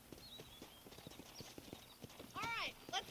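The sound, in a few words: horse clip-clopping in Red Dead Redemption video game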